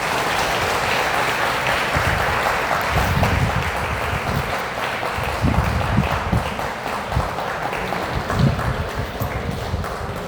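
Sustained applause from an audience at a Tamil devotional talk in T. Nagar, dense steady clapping filling the whole stretch at a fairly loud, even level with no voices over it.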